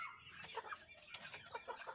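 Black Australorp and Rhode Island Red heritage chickens clucking softly, a faint scatter of short murmuring clucks and calls from a few birds close by over quiet background.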